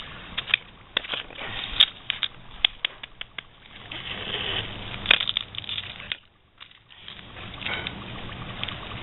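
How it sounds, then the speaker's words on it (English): Dry ice poured from cardboard, giving close, crunchy clattering and scattered sharp rattles that come in uneven bursts, with a short lull before the scraping resumes. "So I'm gonna take this piece of cardboard, dump some dry ice in there."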